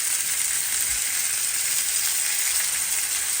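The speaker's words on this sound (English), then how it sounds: "I'm going to drop in a little bit more butter" Steak and butter sizzle steadily in a hot pan, a dense, even crackling hiss that runs continuously and fairly loud with no voices over it.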